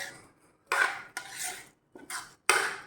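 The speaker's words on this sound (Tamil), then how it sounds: "இப்போ நம்ம ஃப்ரூட் கேசரியை அப்படியே கிண்டிட வேண்டியதான்." Fruit kesari being stirred in a pan produces four distinct scraping strokes of a spoon against metal, close and clear, separated by short pauses, with no talking.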